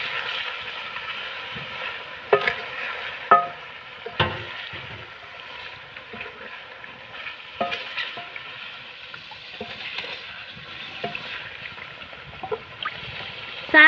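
Fried chicken is stirred with spices in a frying pan, producing a soft, steady sizzle with scattered scraping clacks from the spoon, moderately close.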